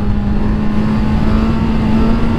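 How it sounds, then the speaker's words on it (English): A motorcycle engine holds a steady, close, continuous hum at high revs during a wheelie, with no voices. "So, let's try a wheelie."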